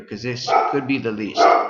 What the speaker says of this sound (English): That was my dog trying to mess up the video.